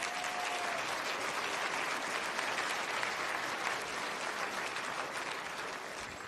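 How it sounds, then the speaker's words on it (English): A congregation gives sustained, even applause to welcome a pastor being introduced. The dense clapping fills the room at a steady level for several seconds and fades slightly at the end. "If we can all put a round of applause"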